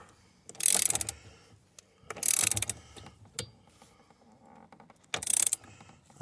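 A click-type torque wrench tightens the steering wheel bolt on a 2014 Nissan Frontier, giving three short, sharp ratcheting bursts spaced a second or two apart, close and clear with quiet gaps between.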